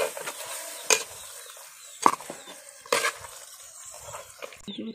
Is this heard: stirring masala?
yes